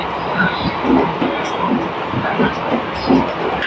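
A passenger train heading toward Siliguri rumbles along the rails through a crossing, a steady near roll with faint rhythmic clacks under background noise.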